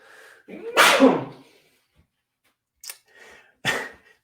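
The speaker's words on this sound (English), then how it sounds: "Do you know that feeling when you just can't escape from a sneeze?" A single loud sneeze close to the microphone, followed after a pause by a couple of short sniffs or throat sounds.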